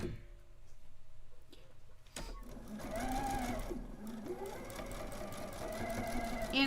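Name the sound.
sewing machine sewing the rest of a seam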